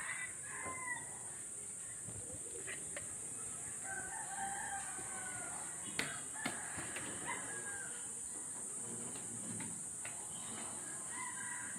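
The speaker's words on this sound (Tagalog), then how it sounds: "tilaok ng manok" A rooster crows faintly in the distance several times over a quiet rural countryside background with insects buzzing steadily.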